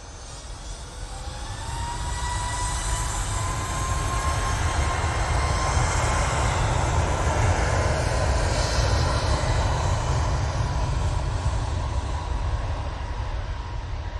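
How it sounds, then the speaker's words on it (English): A Ryanair airliner departs Manchester Airport bound for Barcelona, its engines building into a loud, steady roar with a deep rumble and broad hiss that holds for the whole stretch, no voices over it. "Ryanair going off to Barcelona"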